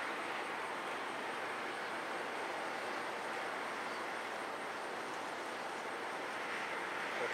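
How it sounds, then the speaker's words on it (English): An airplane passes overhead during a late-night police sobriety stop, heard as a steady, broad rumbling roar that holds at an even level throughout with no talk over it. "No, that's probably just a plane."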